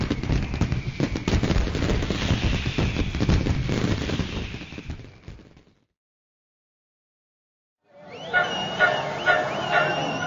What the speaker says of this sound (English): During Chinese New Year parades, there are tons of firecrackers.